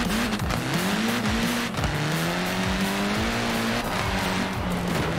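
Several cars racing in Forza Horizon 4, engines droning and shifting pitch continuously with brief tire squeals over a steady, loud bed of game noise, no talking.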